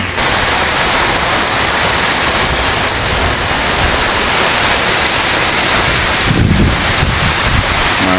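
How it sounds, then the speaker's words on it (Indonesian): A strong windstorm sweeps through Klaten, Indonesia, early in 2024, producing a loud, continuous roar and rushing hiss with heavy buffeting against the microphone and a sharper gust near the end. "anginnya juga masih kenceng ya"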